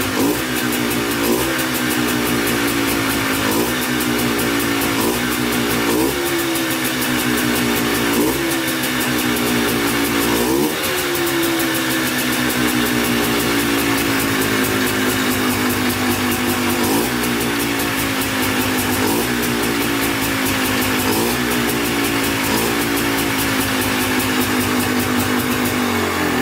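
A freshly rebuilt quad ATV engine with a cheap top-end kit runs during break-in, throttle blipped repeatedly so the pitch rises and falls in a series of revs over a steady, close, loud idle.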